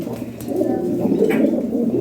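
Lahori pigeon, a show-quality bird sitting on eggs, cooing in a low throaty burble that rolls on continuously at close range, with no voices over it.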